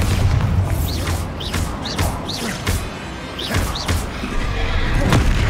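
Repeated Bombarda spell blasts in the Hogwarts Legacy video game, a rapid series of heavy booming impacts and crashes about every second over dense game effects.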